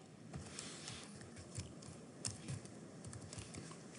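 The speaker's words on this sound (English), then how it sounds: "we're going to type all in capitals" Computer keyboard typing gives irregular, quiet clicks and taps, some in quick bursts, close up in a calm room with no talk.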